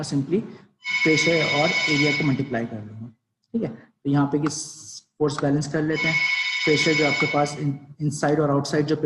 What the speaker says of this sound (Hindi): फ़ोन की आवाज़ थी, ठीक है।